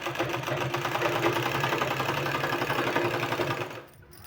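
A sewing machine stitching two strips of 2-inch-wide fabric together, a fast steady mechanical whir that runs continuously and then stops abruptly near the end.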